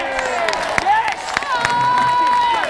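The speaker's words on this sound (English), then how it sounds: "Give Tracy a massive round of applause" Crowd at a Free Tommy Robinson and pro-Trump street march in 2018 applauding and cheering, a loud continuous roar of clapping and whoops with a speaker's amplified voice ringing over it.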